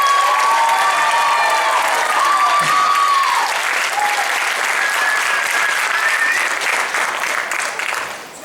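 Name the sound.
audience applause for a choir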